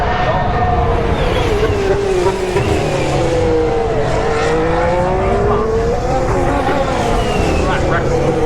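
Formula 1 cars howl past a trackside spot at Turn 11 during a 2019 Grand Prix, a loud continuous engine whine rising and falling as cars pass and accelerate, under a commentator's voice.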